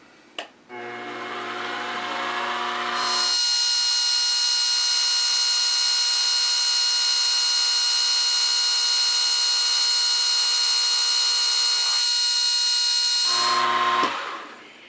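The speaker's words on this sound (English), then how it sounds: "5 thou skim cut, that's all." A metal lathe takes a light five-thou skim cut on a part: a steady, loud whine with strong tonal harmonics rises as the spindle spins up, holds evenly for about ten seconds, then winds down near the end.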